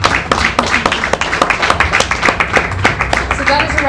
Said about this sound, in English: one more round of applause for our two wonderful speakers